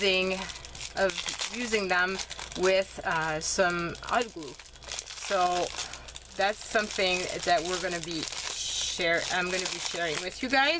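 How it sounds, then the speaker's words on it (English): Plastic wrapping crinkles and rustles as it is pulled off items during a craft-supply unboxing, a steady scratchy texture running under continuous close talking. "Sorry about the noise of the plastic"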